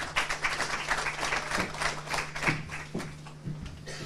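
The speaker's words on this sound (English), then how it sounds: "Round of applause." Audience applause at a professionals and business engagement event, a steady wash of clapping across the room over a low constant hum, with a few sharper thumps mixed in.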